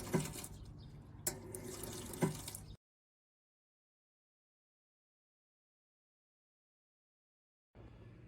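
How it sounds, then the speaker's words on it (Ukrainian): Water runs from a faucet of a touchless washbasin at a car wash, a steady broadband rush for under three seconds that cuts to silence, then resumes faintly near the end. "Тепер відкриваємо крана і дивимося. Замикаємо його і бачимо, що водичка в нас лється."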